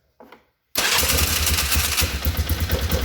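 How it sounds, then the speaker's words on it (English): A Polaris Sportsman 500 ATV engine cranks briefly and fires, then runs at a loud, rough, close-up idle. "turn the key and let's see if it actually turns over"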